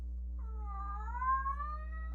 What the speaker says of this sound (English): Oh, this would be so awkward if you end up not being able to hear my cat.